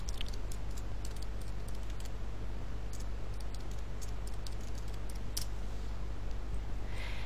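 Rapid, light keystrokes on a computer keyboard entering login credentials, an irregular run of close clicks over a steady electrical hum.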